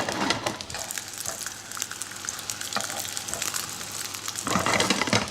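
Breaded fish fingers with dill frying in a hot pan, with a loud, continuous crackling sizzle and scattered pops that swell near the end, and no talking.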